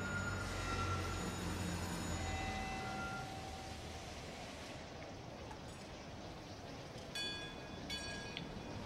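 A train in the PC video game Over the Alps, a continuous rolling rumble of rail cars that softens midway, with a brief higher tone near the end.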